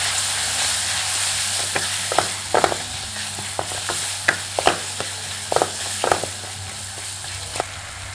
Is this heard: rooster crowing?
no